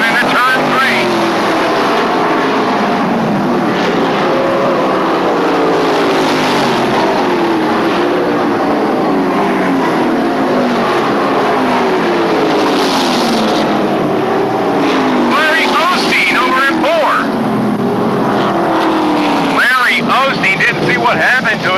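Late model stock cars roar around an oval racetrack, a dense continuous wall of loud engine noise with cars sweeping past, and a commentator talking over the din throughout.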